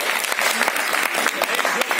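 Audience applause at a DID anniversary celebration program in Bhopal, a dense, steady clapping that fills the whole stretch without pause.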